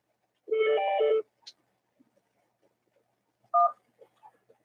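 Telephone keypad tones followed by a ring on a live call-in show, a steady dialing burst then a short ringback pulse, fairly clear with quiet gaps between and no talking.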